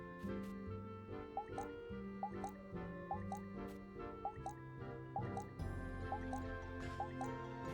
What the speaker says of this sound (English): we water our crops